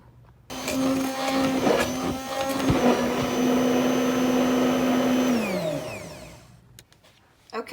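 A kitchen blender whirs steadily for several seconds while blending butter into warm milk, with a few knocks from the jar. The motor then spins down, and a few faint clicks follow.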